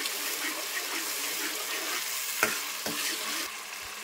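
A paste of tomato, green chilli and onion fries in hot oil for a pomfret fish curry, a dense close sizzle with a couple of spoon knocks against the pan partway through.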